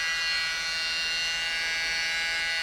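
A small battery mini blower pushes air across wet fluid art paint with bubbles, giving a steady, close electric whir that holds without a break and has no talk over it.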